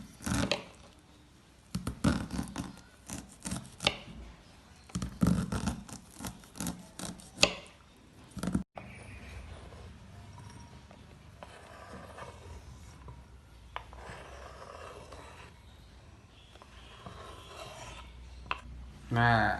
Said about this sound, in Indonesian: Nah, untuk jagungnya kita serut.